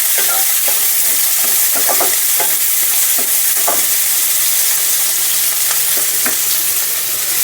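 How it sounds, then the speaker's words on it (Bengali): Sliced onions and jackfruit seeds fry together in a pan for a puti fish chorchori, with a loud, continuous close-up sizzle broken by scattered scraping stirs. "কাঁঠালের বীজ আর পেঁয়াজটা এখন একসঙ্গে ভালো করে ভেজে নেব।"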